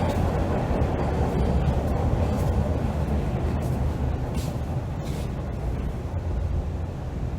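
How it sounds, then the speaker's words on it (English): A northbound Toronto subway train rumbles through Dundas station, a loud, continuous low roar and hum with no talk, holding steady for the full stretch. "That's the northbound train heading to Finch Station in North York."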